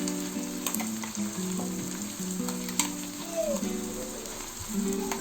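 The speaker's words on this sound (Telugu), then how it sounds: "ఒక 2 minutes ఫ్రై చేసుకున్నాము." Green chili and coconut paste frying in a pan with ginger-garlic paste for prawn and brinjal biryani, a loud, close, continuous sizzle with stirring clinks. Faint background music runs underneath.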